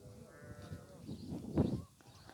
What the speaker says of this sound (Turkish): Burada bebek koyun varmış.